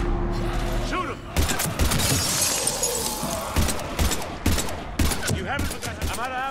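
Heavy gunfire erupts in Mass Effect 3, with sharp bursts of shots and shattering impacts repeating through a chaotic battle, while voices talk over the noise.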